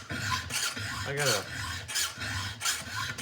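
Hand file rasping across a Stihl 661 chainsaw chain, a close, steady series of scraping strokes repeating in rhythm with short pauses between them, with a brief spoken phrase in the middle.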